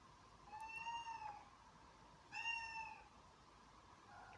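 A cat meows twice, soft and plaintive, with a pause between, over a low steady background hum.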